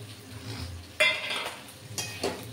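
A spoon stirs potato curry made with Chandramukhi potatoes and fried prawns in a pan, giving a few sharp metallic clinks and scrapes against a quiet kitchen background.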